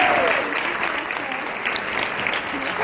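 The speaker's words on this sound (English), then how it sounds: "huge round of applause and let's welcome Desiree" Sustained applause from a large audience at a doTERRA regional summit as a speaker comes onstage, an even roar of clapping hands heard up close and steady throughout.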